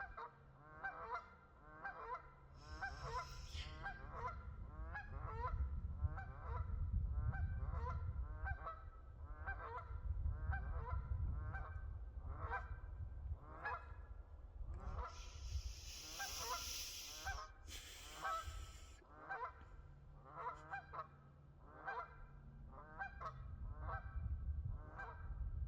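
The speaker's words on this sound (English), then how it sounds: "The geese either agree or disagree, I can't tell." A flock of geese honks continuously at moderate distance, with overlapping repeated calls forming a steady rhythmic chorus over low background rumble and a brief burst of noise midway.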